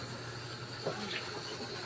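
Steady running water with a broad hiss, like water pouring from a tap into a pan, continuous throughout with a faint voice in the background.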